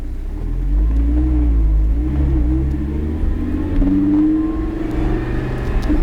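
A car pulls away in first gear on a track, its engine rumbling loud and close and rising steadily in pitch as it accelerates, with no other sound over it.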